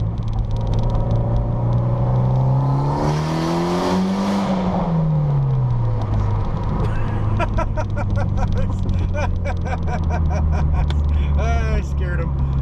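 A car with a loud aftermarket exhaust revs hard nearby, its engine note sweeping up and falling back, and a crackling burble follows toward the end. People talk over it.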